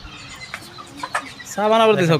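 Chickens on a poultry farm starting with 500 birds, a few short, close clucks followed by a louder, drawn-out call at the end.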